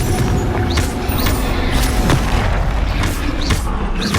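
Confringo blast spell in Hogwarts Legacy on PS5: loud booming explosions over a dense battle din, with sharp cracks and whooshing spell effects recurring throughout.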